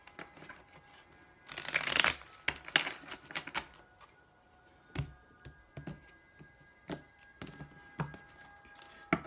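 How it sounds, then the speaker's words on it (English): A deck of tarot cards is shuffled by hand, giving a quiet, close riffle followed by scattered soft taps and flicks as the cards settle. "All right, last shuffle."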